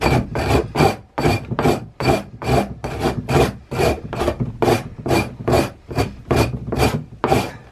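A frozen beaver hide is scraped of frost in cold weather, making a loud, close rasping stroke repeated in a steady rhythm of about two strokes per second, with no voices.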